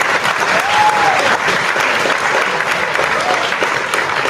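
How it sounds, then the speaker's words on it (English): Applause sound effect: a dense burst of clapping from a crowd, loud and sustained throughout, with a brief whistle-like tone early on. "Let me give myself a round of applause."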